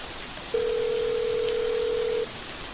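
A single steady electronic telephone tone, from a call to a switched-off phone, sounds for nearly two seconds over soft background hiss, then cuts off cleanly.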